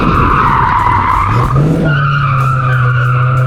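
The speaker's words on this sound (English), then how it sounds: "Just a little bit of handbrake, foot brake, turn around, stop the stride." A street car at an autotest slides through a handbrake turn, heard as a loud continuous tyre skid with engine noise; a rising squeal settles into a steady high tone as the car comes around and stops.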